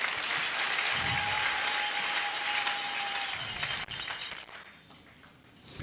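A church congregation applauding, a dense sustained wave of clapping that fades out toward the end.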